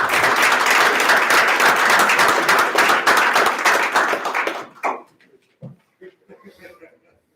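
Audience applauding at a jail basic training graduation for Class 33, dense sustained clapping for about five seconds that then tapers off abruptly into a few scattered claps and faint voices.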